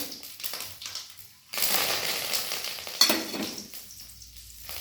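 Dry red chilies and curry leaves sizzle loudly in hot frying oil for a curd rice tempering, a burst of crackling that erupts midway and then keeps hissing steadily, close up with no talking.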